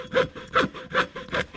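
Four quick, rhythmic strokes of a hacksaw rasp back and forth through material on a tractor restoration, close up and alone.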